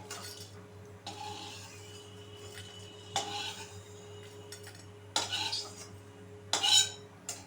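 Spiced masala mix for kasturi chicken, fried until just browned, is scooped from the pan onto a plate, giving a few metal utensil scrapes and clinks over a low kitchen background hum.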